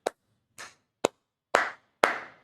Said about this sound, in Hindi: आपके लिए जोरदार तालियां